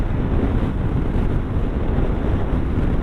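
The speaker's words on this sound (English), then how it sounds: "I get absolutely battered with the wind," Heavy wind buffeting roars continuously at speed while riding a Yamaha Tenere T7 motorcycle, a loud, dense rumble with no gaps and no voices.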